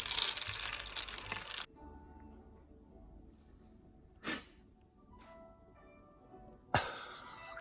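Mahjong tiles shuffled on a table give a loud clattering burst at the start, then quiet, with two more short sharp rattles of tiles later.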